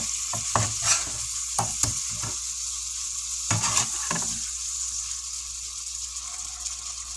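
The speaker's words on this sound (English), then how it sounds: "That juice, it's just literally frying in it, like simmering in it." Burgers for Salisbury steak frying in their juices and sauce in a pan, a continuous close sizzle broken by sharp scraping and pressing clatters from a spatula smashing the patties.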